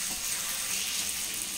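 A masala egg omelette sizzles in a hot pan as it is flipped over, giving a steady, bright hiss of frying oil that carries on evenly throughout.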